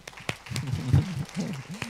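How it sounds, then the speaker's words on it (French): A small audience at a public talk gives a few scattered, sparse claps, faint and uneven, while a voice speaks softly between them. "On va s'applaudir, tout le monde."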